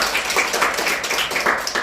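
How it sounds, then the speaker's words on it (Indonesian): A group in a classroom claps together briefly, a short burst of close, busy hand clapping with voices mixed in. "tepuk tangan untuk kita semua."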